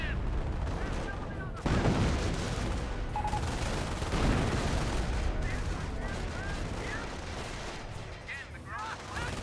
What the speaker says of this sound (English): More mortar hits.